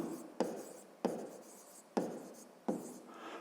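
A pen writes by hand in a notebook during a sixth-grade maths exercise, four quick scratchy strokes at a steady rhythm, each starting sharply and then trailing off, close and quiet with no talk.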